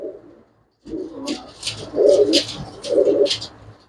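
Pigeons with dark, well-marked throats coo in a series of soft, throaty phrases close by, with short pauses between the calls and faint chirps behind them.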